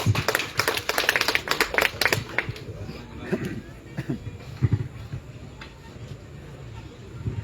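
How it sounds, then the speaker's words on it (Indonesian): A crowd claps at a political rally in Kupang, Indonesia, in a burst of dense applause that quickly thins to scattered claps, with voices and room noise carrying on afterward. "kita kasih tepuk tangan sekali lagi buat Bapak Yusuf"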